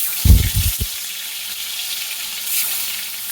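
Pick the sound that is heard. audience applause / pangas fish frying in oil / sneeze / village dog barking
pangas fish frying in oil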